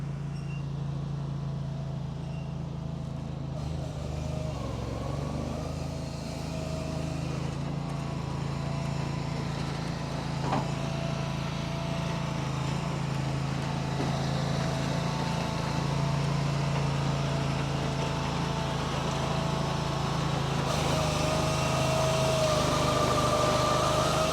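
A firewood processor runs steadily for the whole stretch, a constant droning engine with a low hum and faint mechanical clanks, heard at moderate distance with no talking.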